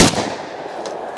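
A Panzer Arms AK Twelve semi-automatic shotgun fires a single loud, close blast at bottles on an outdoor range, followed by a decaying echo.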